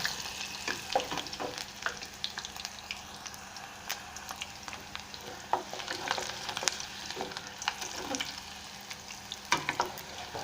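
Green chilies fry in hot oil with a soft sizzle, light crackles and pops, fairly quiet and close.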